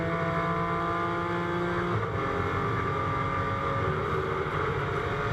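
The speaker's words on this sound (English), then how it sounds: "Great noise from the BMW engine." BMW GT4 race car at Misano during a GT4 European Series race, engine note rising steadily under acceleration with harmonic drone, continuous and fairly close, no talk.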